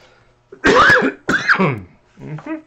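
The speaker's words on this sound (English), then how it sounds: "There goes coughing." Two harsh, close coughs in quick succession, followed by a softer throaty rasp.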